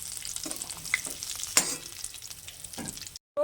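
Chopped onions fry in oil for a simple egg biryani, giving a steady close sizzle with a few sharp stirring scrapes, and then the sound cuts out briefly near the end.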